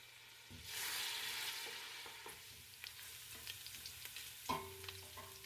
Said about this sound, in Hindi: सबसे पहले एक पैन में आधा कप तेल लेंगे और इसमें शामिल करेंगे चॉप किया हुआ लहसुन और अदरक।